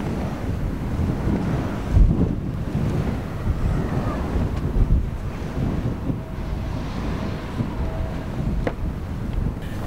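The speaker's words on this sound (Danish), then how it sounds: "Pludselig er vinden der, og den skal bruges" Steady wind gusting across an open microphone beside a windmill near the Wadden Sea, a continuous low roar with a few stronger buffets, loud and close, with no voices.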